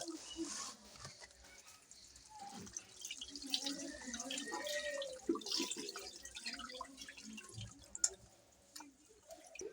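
Cut duck meat being rinsed in water, with splashing, dripping and sloshing close by while someone talks over it.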